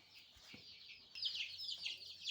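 Young chicks chirping and peeping softly nearby as they run about, a continuous high twittering that grows busier partway through, with a few faint thumps.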